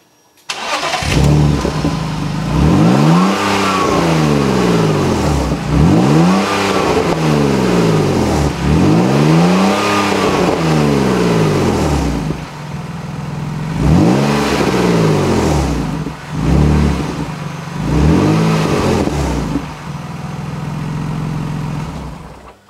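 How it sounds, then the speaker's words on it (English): A BMW Z3 roadster, built on the E36 platform, cranks and fires up, then its engine is revved again and again in rising and falling sweeps, loud and close, before settling toward a steady idle. "So let me start up the car and then see what the fumes are doing."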